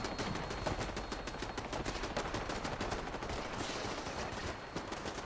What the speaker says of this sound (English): I hear a lot of gunfire